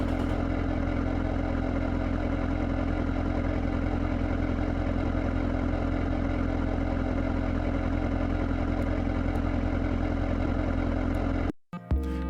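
A simulated 6.6 LBZ Duramax diesel engine from the game Automation idles steadily with a dense, even rumble that holds throughout, then cuts off abruptly right at the end.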